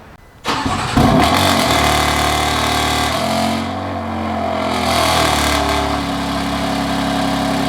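A BMW F80 M3 with a raspy exhaust fires up with a sharp starter catch, flares, then settles into a loud, steady idle that rises slightly before easing back.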